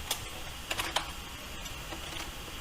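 Computer keyboard keys tap a few times in quick, light, close clicks over a steady faint background hum, with no talking.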